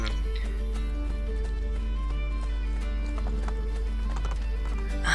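Steady clip-clop of horse hooves with a whinny, set over a constant low hum and game-like ambience, from the video game Assassin's Creed Brotherhood.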